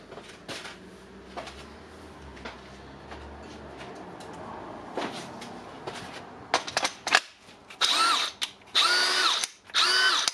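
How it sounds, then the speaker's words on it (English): Clicks and handling noises at first, then a DeWalt DCD777 18V cordless drill with a rebuilt gearbox whirs in several short, loud bursts, stopping and starting near the end. "we have the drill with reassembled gear assy, new housing, and we can test it."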